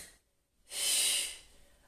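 One strong, forceful exhalation during a Pilates exercise, a close, airy hissing breath that swells after a brief quiet pause, holds for about half a second, then fades.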